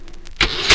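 A 1960 Brother manual typewriter carriage return, a few soft ticks followed by a loud, close ratcheting slide and a final clunk, heard alone.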